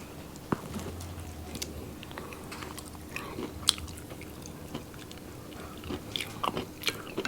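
Crunchy lechon kawali, a fried pork belly, is bitten and chewed up close at a Filipino mukbang meal, with sharp crackling crunches scattered over steady, moist chewing.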